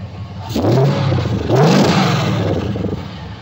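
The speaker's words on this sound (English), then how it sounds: "That what that exhaust sound like when we got done with it the other night." A 1971 Chevelle's exhaust revs up twice in quick succession, each a loud rising blat that swells and falls back, with a rumbling idle between and after, close by.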